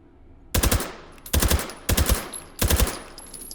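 A suppressed automatic weapon firing subsonic 9mm rounds in the H3VR virtual reality shooter: four short, muffled bursts of rapid fire, each about three or four shots, spaced evenly and close, with no talk.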